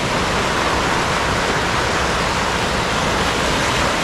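Ocean waves on Vizag beach at sunrise, a steady, loud broadband wash of surf that fills the whole stretch without a break and with no voices.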